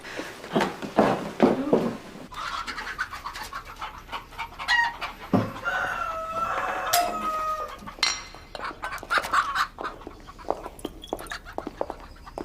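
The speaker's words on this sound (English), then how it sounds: "Can't say I care for hens. Mostly cockerels, they be." Cockerels crowing and hens clucking in a rural English village setting, with several drawn-out crows rising over steady nearby clucks and rustling, the birds fairly close and overlapping through the whole stretch.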